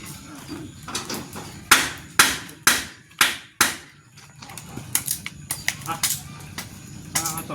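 Hammer blows driving the legs into a wooden piece: a run of five sharp, evenly spaced strikes, then a quicker cluster of lighter taps, close by, with a voice talking faintly in between.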